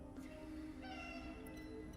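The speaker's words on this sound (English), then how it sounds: "I hear you, cat." A cat meows in a video game, a single drawn-out, wavering meow rising over a low ambient game background, fairly quiet and with no talking.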